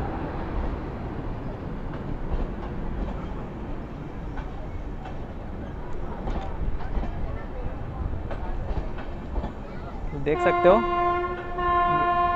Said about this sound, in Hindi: विशाखापट्टनम भगत की कोठी weekly express first LHB inaugural run.